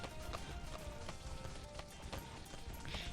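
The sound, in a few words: purple balloons popping in the video game Bloons TD 6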